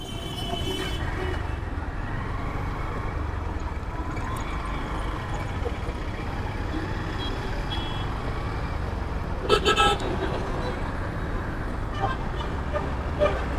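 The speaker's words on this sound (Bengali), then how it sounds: "এই হচ্ছে হাইওয়ে।" Steady roar of highway traffic with passing trucks and cars, a broad continuous rumble throughout, and a brief horn or beep burst around the middle; no talk stands out.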